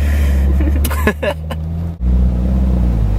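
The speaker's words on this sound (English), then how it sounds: "I just picked you up in a Ferrari" A Ferrari's engine runs with a steady low drone close by, dipping briefly partway through before returning at full strength, with faint voices in the background.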